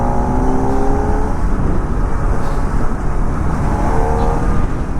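A Kawasaki ZX-4R four-cylinder sport bike rides steadily in sports mode, its smooth engine hum loud and continuous beneath heavy wind rush, with no talking.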